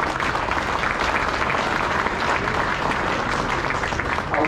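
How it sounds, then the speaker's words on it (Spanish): A congregation at a Mass breaks into steady, dense applause. The clapping is loud and sustained throughout, with no talking over it. "le damos un aplauso."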